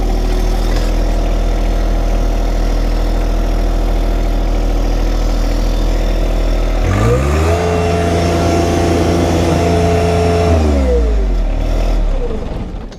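John Deere 1025R compact tractor engine working while trenching for a channel drain drywell pipe, a loud steady idle that rises into a sustained rev midway, then drops back down near the end.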